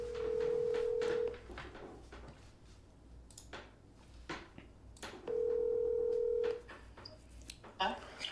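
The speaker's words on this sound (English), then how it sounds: "let's call Tequila" Two steady telephone dial tones, each about a second long, sound while a call is placed, with clicks and handling noises between them and people talking faintly in the background.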